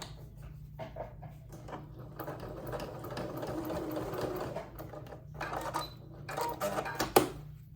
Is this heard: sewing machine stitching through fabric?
yes